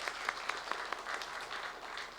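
A church congregation applauding for returning children and teachers, a short burst of claps, a few distinct claps at first merging into moderate, fairly distant applause.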